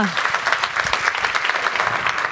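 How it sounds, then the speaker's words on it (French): Audience applause for Charlotte Dekoker at the 2014 Norauto Foundation awards ceremony, a steady, dense clapping from a crowd that holds level throughout, fairly close and loud. "On peut applaudir Charlotte de Cocker."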